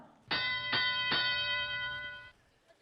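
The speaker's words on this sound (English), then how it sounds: "You heard the bell." A bell signals a match at a FIRST Tech Challenge robotics championship with three quick, bright metallic strikes that overlap and ring out for about two seconds before cutting off, moderately loud with no talk.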